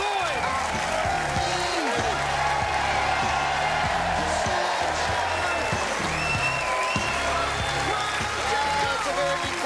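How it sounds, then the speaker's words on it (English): A studio audience applauds steadily during a football television panel introduction. The dense clapping runs throughout, with voices and other tonal sounds layered over it. "What we need to do is keep the applause coming"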